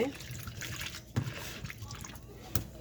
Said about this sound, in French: Moi, je donne un deuxième rinçage.